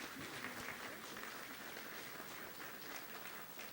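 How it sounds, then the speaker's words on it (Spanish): An audience applauds a presenter at a public forum on the situation of children in the State of Mexico: steady, dense clapping from a crowd that holds for several seconds at an even level, with no talk over it. "Un aplauso para la ponente, por favor."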